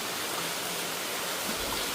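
Record-breaking heavy rain falls in a village with water running everywhere, a dense, steady, loud hiss of downpour and flowing water that fills the whole moment.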